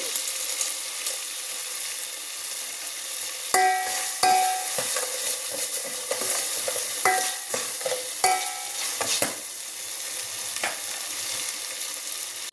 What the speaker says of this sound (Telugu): బాగా అల్లం వెల్లుల్లి పేస్ట్ వేగిపోయింది